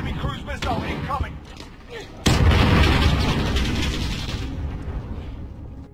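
A cruise missile strikes in the video game Modern Warfare: a sudden heavy explosion bursts in and leaves a loud, rumbling, slowly fading roar, after a stretch of game noise and speech at the start.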